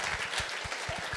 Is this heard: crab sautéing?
no